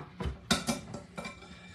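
Chopped red, yellow and orange sweet peppers and green onions dropped into a bowl for chicken pasta salad, a few soft close thuds and light clatters over under two seconds.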